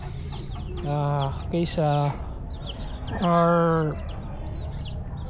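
Gray hens on a backyard farm give several loud, drawn-out clucks close by, in short bursts separated by pauses, while someone talks quietly beneath them.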